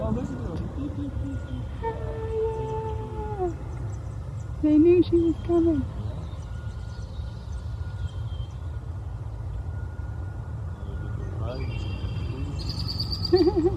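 A young bird at a nature center gives a few thin, wavering calls, some drawn out and some repeated in short bursts, over a steady low background rumble while people talk quietly.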